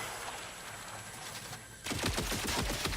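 Turret gunfire in the video game The Outer Worlds 2: after a quieter stretch of game ambience, a rapid burst of automatic fire erupts and continues loudly to the end.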